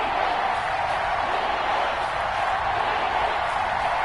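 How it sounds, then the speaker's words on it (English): A stadium crowd in the video game Madden 21 roars steadily ahead of a big third down, a continuous dense wash of cheering noise with no break throughout. "the crowd getting into it as we come up on a big third down"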